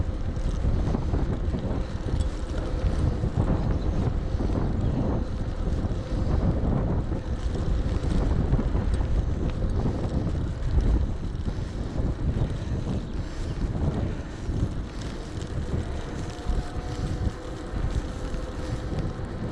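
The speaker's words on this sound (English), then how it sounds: "that wind's strong" Strong coastal wind roars continuously into the microphone during an electric bike ride between Morecambe and Glasson Dock, a loud, unbroken buffeting rush with no talking.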